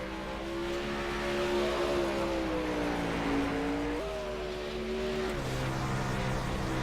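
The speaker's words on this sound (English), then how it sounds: "Lyle Johnson in the 111 car as he takes the green flag there" Lyle Johnson's number 111 winged race car takes the green flag on the track, its engine a loud, steady drone that climbs in pitch, then jumps abruptly at upshifts around four and five seconds, with no voices over it.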